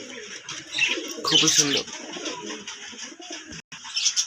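White Madras pigeons kept in pairs coo in bursts close by, with a brief phrase of speech and some chirping in the mix.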